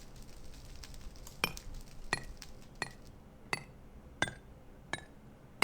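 Auto chisel working in the Minecraft modpack Modern Skyblock 3, giving off sharp glassy clinks at an even pace, roughly one every two-thirds of a second, over a quiet background.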